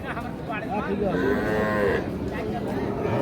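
Cows low loudly in a long, drawn-out moo at a busy rural cattle market in Dinajpur where cows and calves are bought and sold. The sound is close and steady, with a dense crowd murmur beneath it.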